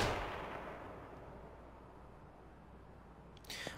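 Gunshots in the video game H1Z1 Battle Royale: a sharp report at the start decays into a long rumbling tail, then another shot cracks near the end.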